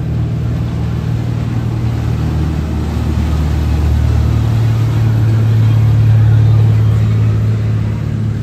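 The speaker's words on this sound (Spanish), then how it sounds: "Esas son las lanchas rápidas de excursiones que pegan unas vueltas locas." Excursion speedboats roar out of the port of Miami, a steady loud low engine drone that swells slightly as they pass, with wind rush over it.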